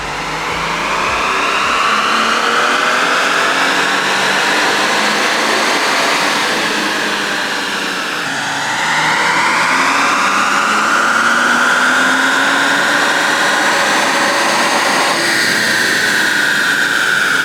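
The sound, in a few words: turbocharged Nissan engine running on dyno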